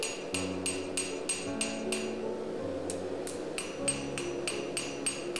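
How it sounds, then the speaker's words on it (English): A hammer forges a hearth steel knife blade on an anvil, rapid ringing metallic strikes in two bursts of about six to eight blows each, separated by a short pause, with a sustained anvil ring beneath. "This is all the forging that I will do"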